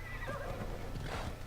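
A horse in Assassin's Creed Odyssey lets out a brief, faint whinny against a steady background hum, with soft hoof-like thuds underneath.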